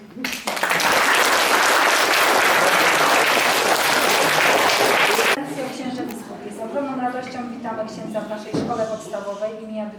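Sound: applause for the pupils' speech

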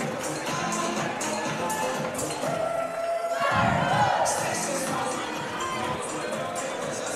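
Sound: high school cheerleaders doing a short cheer

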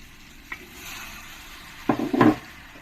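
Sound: potatoes frying and being stirred in oil

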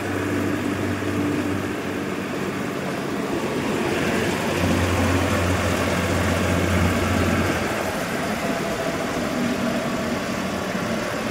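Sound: tractor engine running

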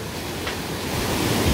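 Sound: mountain valley stream water flowing

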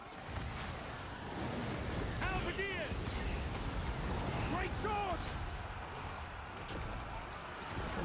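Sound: cannon artillery fire in Warhammer II video game

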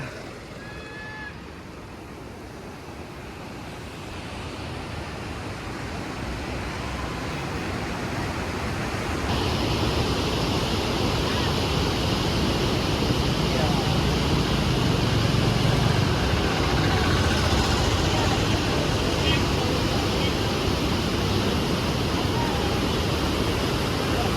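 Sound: river water rushing from dam

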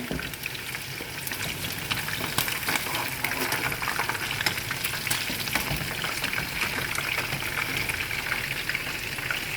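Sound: chicken frying in a pan

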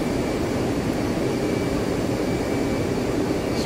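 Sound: F-15C jet engine at idle power in DCS video game

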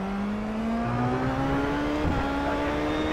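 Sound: V8 race car engine revving in iRacing video game

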